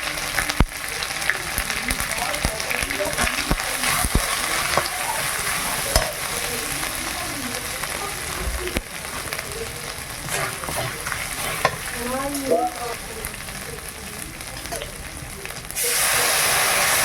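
Spices with cumin powder frying and stirred in a pan for a village home meal, a steady close sizzle and hiss with scraping stir strokes throughout, faint voices now and then underneath.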